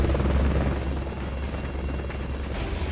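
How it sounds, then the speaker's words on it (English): Helicopter in the video game Metal Gear Solid Peace Walker, a loud, steady rotor drone with a deep low-end throb, continuous and close throughout with no talking. "Mr. Helicopter."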